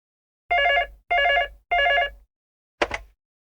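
A telephone rings in three evenly spaced electronic bursts followed by a short fourth bursting trill, clear and close with silence between the rings.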